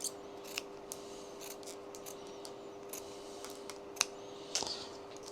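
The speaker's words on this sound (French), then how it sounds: "on va commencer à couper au niveau du milieu de la cocotte, la guidoline, en coupant en biais jusqu'à l'arrivée" Scissors snip Supacaz bicycle handlebar tape at an angle, a few sharp, brief cuts spread across a quiet stretch with small handling clicks between them.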